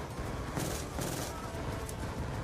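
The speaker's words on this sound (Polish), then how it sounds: "O, będzie strzelanina." Gunfire in the video game Call of Duty: Black Ops 2, a dense, continuous stretch of shooting with overlapping bursts under constant game noise, with a louder flurry midway.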